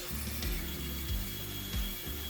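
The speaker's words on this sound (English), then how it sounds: "I thought I'd use my bandsaw to cut off the top from one of the offcuts" A bandsaw cuts through a wood offcut meant for a guitar headstock veneer, a close mechanical whir with rhythmic low thumps and a rasping blade roughly every half second, suggesting an unsuitable blade.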